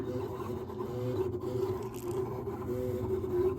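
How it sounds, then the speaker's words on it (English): A LokLik iCraft cutting machine slices a laminated vinyl sticker sheet, giving a quiet, continuous low whir with faint scraping from the blade, steady throughout with no talking. "I will say this cutter is extremely quiet."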